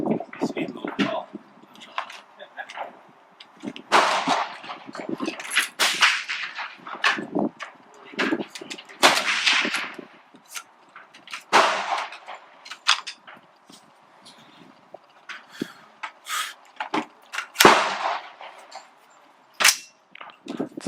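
An AR-15 rifle fires at an outdoor shooting range, sharp cracks arriving irregularly, singly and in short clusters, with people talking between and under the shots.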